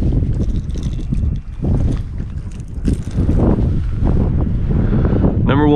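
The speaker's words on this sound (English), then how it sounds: "Wind is blowing hard, too." Strong wind buffets the microphone beside a rock cliff reservoir, loud and gusty, while indistinct voices are heard faintly through the rumble.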